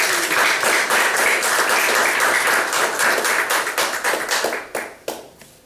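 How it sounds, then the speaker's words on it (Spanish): Church congregation applauding during a Spanish-language service, a dense steady clapping that carries on for about four seconds, then thins and tapers off into a few scattered claps. "Denle un aplauso al Señor por la visita."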